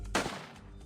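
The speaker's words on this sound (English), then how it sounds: "A single gunshot may sound like this." A single sharp gunshot cracks out loudly and alone, its report decaying quickly into a brief ringing tail with no voices.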